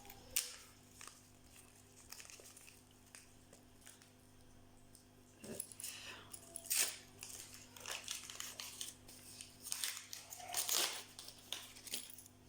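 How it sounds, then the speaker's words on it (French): Small metal charms jingle and clink faintly in irregular bursts, light tinkling taps and rattles scattered over several seconds against a quiet indoor hum. "Alors, ça fait du bruit. Donc c'est en métal, je dirais, les breloques."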